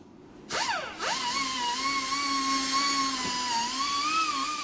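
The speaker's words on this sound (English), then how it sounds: "buff the rust off of the bolt back here, and then I'm going to weld it" A handheld power tool buffs rust off a bolt on a 1952 Jeep, spinning up with a sharp rising whine, dipping, then holding a steady high-pitched drone, loud and close with no talk.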